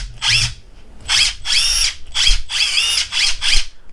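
A Makita 18V XDT14 brushless impact driver with a 2 amp hour battery runs in six short, loud, close bursts of high whining motor noise separated by brief pauses.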